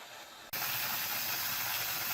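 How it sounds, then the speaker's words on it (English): A Nesco electric canner water-bath canning pickled onions bursts into a loud, steady hiss as steam spews from its exhaust, starting abruptly after a quiet half second and continuing unbroken and close. "you could probably hear it's making quite a racket, spewing lots and lots of steam out from the exhaust."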